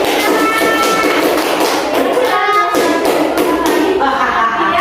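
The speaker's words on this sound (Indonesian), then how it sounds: "Oke, tepuk tangan dulu." Students clapping together in a classroom, a steady patter of many hands sustained throughout at close range, with no talking over it.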